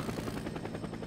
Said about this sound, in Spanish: un helicóptero de Nero.